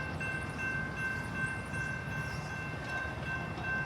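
An Amtrak Auto Train led by a Charger LC42 locomotive rolls by as a steady rumbling wash of rail noise with a sustained high tonal ring over it, fairly faint and distant, with no talking.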